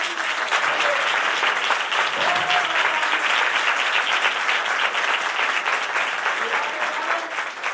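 Sustained applause from a congregation at a church opening on Manora Island, dense and steady clapping filling the whole stretch with no speech.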